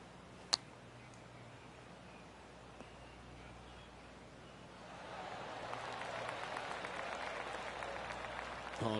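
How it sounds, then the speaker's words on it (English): Gallery applause swells in a virtual PGA golf game, a steady patter of many hands clapping at moderate distance that rises after a single sharp click and keeps going. "Oh, golf clap."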